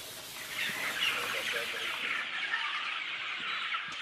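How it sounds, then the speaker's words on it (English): Chickens clucking on a large poultry farm in Ethiopia, a dense continuous chorus of many birds filling the space, steady and fairly close, with no voices present. "such as in this chicken farm in Ethiopia"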